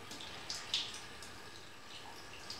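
Running tap water rinsing a black sink surface while hands are cleaned, a soft, steady wash of splashing with a few small drips and splats, quiet and close.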